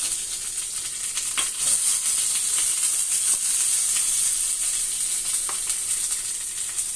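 Curry leaves dropped into hot oil for tempering a cucumber buttermilk curry, a continuous close hissing sizzle with scattered sharp crackles and pops, no talking.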